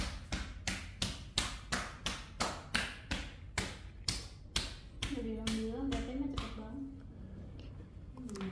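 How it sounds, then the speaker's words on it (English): Hands clapping in a series of sharp, evenly spaced slaps to mark the end of a massage in a Jakarta parlour, close and crisp, the rhythm slowing and thinning near the end as soft voices come in underneath. "The clapping."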